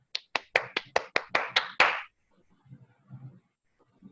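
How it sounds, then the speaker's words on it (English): Brief round of hand claps, about nine sharp claps in quick succession, loud and close, fading into faint background noise and murmur at a Toastmasters club meeting welcoming the Toastmaster. "Put your hands together to welcome with a thunder of applause"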